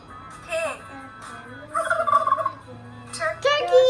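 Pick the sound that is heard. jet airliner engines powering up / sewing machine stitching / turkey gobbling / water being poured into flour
turkey gobbling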